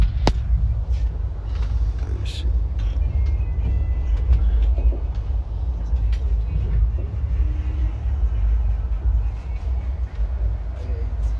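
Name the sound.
passenger train arriving at Guntakal Junction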